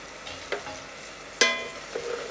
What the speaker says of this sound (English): we're gonna add one ladle full at a time and stir, okay?